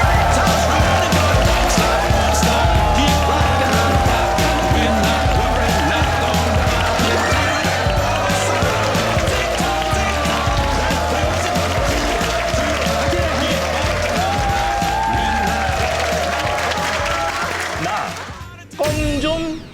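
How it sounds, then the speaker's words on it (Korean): Sustained audience applause and cheering in a studio as two company CEOs are welcomed onto a KBS job-project show; loud, dense and continuous under background music, cutting out briefly near the end. "박수 부탁드립니다."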